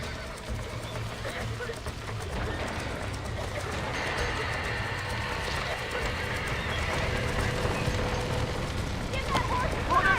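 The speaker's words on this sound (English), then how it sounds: "Now get the horses out!" Horses galloping with steady clip-clop hoofbeats and whinnying in the Red Dead Redemption video game, loud and continuous for several seconds, with voices talking over the herd.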